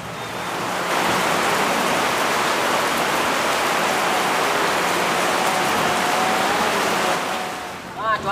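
Steady rain falls in a dense, continuous hiss that fills the scene for several seconds, fading slightly near the end, with faint voices barely present beneath it.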